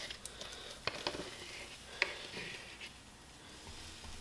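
A spoon stirs natural peanut butter into food, making faint scraping and soft clicking taps with a few sharper knocks against the bowl, close and quiet.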